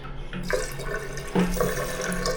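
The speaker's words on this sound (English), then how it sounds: "looks like the water is running just fine" Water runs steadily from a tap in a Manila hotel bathroom, a continuous close hiss and splash with a few brief shifts in flow, and no voices.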